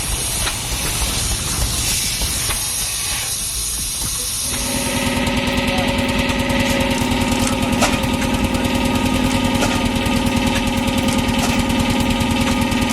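A Bessemer 50 HP antique stationary gas engine runs steadily and loudly, a hissing, rumbling start giving way after a few seconds to a dense, rhythmic firing pulse with strong harmonic hum, heard alone without talk.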